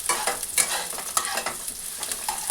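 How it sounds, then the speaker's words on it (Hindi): Chopped onions frying in mustard oil in a pan, a continuous crackling sizzle with repeated brief scrapes and clinks of stirring, close and fairly loud. "अब इसमें हम डालेंगे अनियन, इसे अच्छी तरह से सौटे कर लेंगे।"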